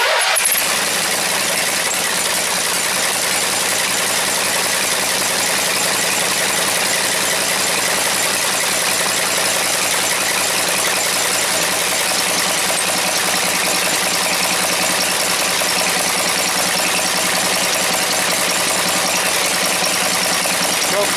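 Briggs and Stratton 16 or 18 hp opposed-twin engine running steadily right after starting, a loud, even, close mechanical drone that holds through the whole stretch with no voices.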